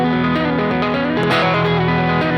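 Heavily distorted electric guitar playing a fast riff from a song, rapid hammered notes going back and forth in a dense continuous stream, loud and alone.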